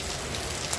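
Rain falls steadily over the town of Santana do Ipanema in Alagoas on a Sunday afternoon, a soft even hiss with faint drop ticks, brief and without voices.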